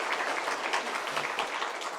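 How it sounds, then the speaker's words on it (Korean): A congregation claps steadily in a church during a Sunday afternoon worship service, a continuous even patter of applause lasting a couple of seconds with no voices over it. "감사히 박수 한번 드리겠습니다"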